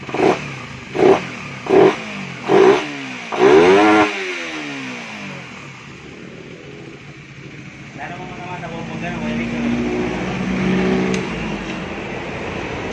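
A Suzuki Raider 150 Fi motorcycle engine is revved in four quick throttle blips and one longer rev, then drops to a rough idle with some low chatter nearby.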